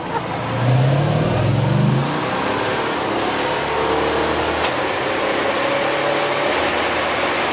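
Classic car engine revving on a transmission test, a loud close surge of rising RPM early on, then a steady mid-pitched engine drone carrying through to the end.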